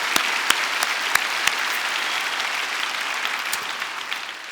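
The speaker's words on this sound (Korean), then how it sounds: "박수로 환영합시다." A church congregation at a youth worship service claps to welcome visitors from other churches, with a broad steady wash of applause, a few sharper individual claps near the start, and the clapping tapering slightly at the end.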